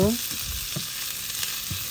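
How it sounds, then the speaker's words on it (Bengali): Chopped onion and garlic fry in a spoonful of mustard oil in a pan, a steady close hiss of sizzling with a few soft stirring scrapes, no voices. "এখন আমি পেঁয়াজ কুচি আর রসুন কুচি দিয়ে দিলাম এগুলোকে এখন ভালোভাবে ভেজে নিব"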